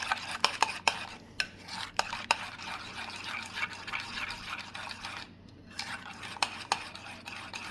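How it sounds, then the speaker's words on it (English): A spoon stirs a honey and apple cider vinegar dressing in a small bowl, with quick repeated clinks and scrapes against the sides, close and fairly quiet, with brief pauses. "Let's give that a stir."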